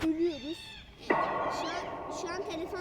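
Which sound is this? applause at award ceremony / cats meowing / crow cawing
cats meowing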